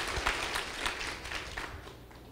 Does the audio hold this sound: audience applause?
yes